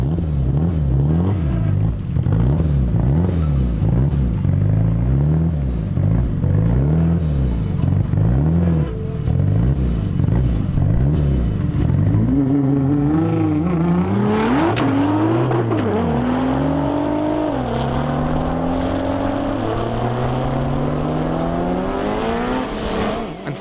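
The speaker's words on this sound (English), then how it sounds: "Tariq's 600 horsepower GT-R, which is going to race Shamil's 1000 horsepower Evo 9" A 600 hp Nissan GT-R and a 1000 hp Mitsubishi Evo 9 at a drag racing event: loud, continuous engine roar with throbbing idle revs, then rising, sweeping acceleration tones, with no voices.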